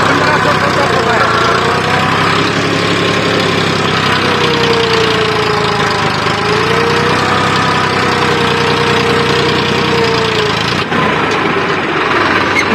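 Tractor engine running at about 1500 rpm while pulling a cultivator in second gear through a wheat field, a steady loud mechanical drone throughout with a fluctuating tone, voices faintly mixed in.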